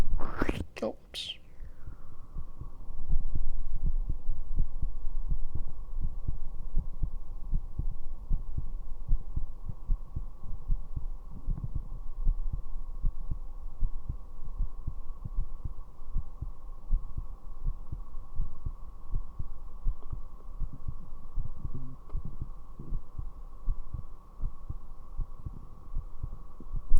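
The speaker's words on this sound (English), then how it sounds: "Heartbeat time." A steady, deep heartbeat thuds over a low hum, close and loud, during a late-night ASMR session. It follows a brief sharp onset and runs continuously without any talking.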